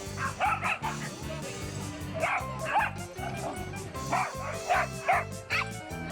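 Several dogs bark and yip repeatedly at a community-run dog run in Lower Manhattan, with bursts of barking in irregular clusters over a steady background hum, moderately close, with faint voices nearby.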